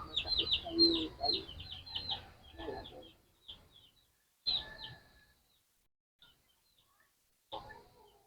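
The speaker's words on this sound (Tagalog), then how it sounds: "nagdala daw si Kabertin na manok, naglalang daw." Chickens cluck on a rural farm, with repeated short calls in bursts, loud up close and then sparser, separated by quiet gaps, with faint voices in the background.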